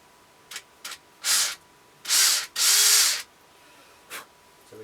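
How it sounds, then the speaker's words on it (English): A power drill bores into the top of a wooden dowel in several short bursts: a few brief taps, then two longer, loud runs of whirring and cutting, close up. "we just want to drill it in the top a little bit"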